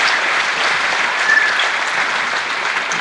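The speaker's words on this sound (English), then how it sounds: "let's give a round of applause one more time to this judicial and legislative branch." Steady, dense applause from a large crowd at a legislative inauguration, sustained and even throughout with no voices breaking through.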